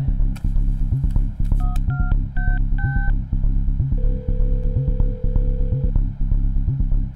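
Telephone keypad dialing in a Hindi-dubbed crime film scene: a quick run of distinct DTMF tones, one per key, followed by a long steady ringback tone, all under constant background music.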